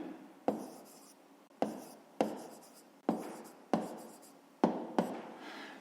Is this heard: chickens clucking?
no